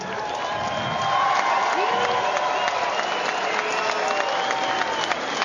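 Home crowd at a New Zealand boxing event applauds and cheers for heavyweight Shane Cameron, a dense, steady roar of clapping and whoops swelling after the first second and holding loud throughout.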